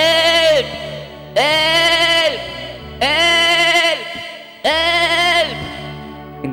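A small goat bleats loudly four times in a steady rhythm, each call long and wavering, close by with quiet gaps between.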